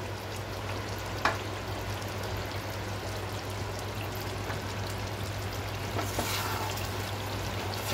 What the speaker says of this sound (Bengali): এবার একটু জল দিয়ে দিয়ে কষাতে হবে